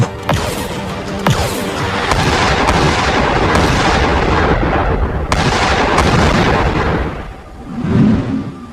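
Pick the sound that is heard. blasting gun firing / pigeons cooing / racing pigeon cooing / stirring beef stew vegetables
blasting gun firing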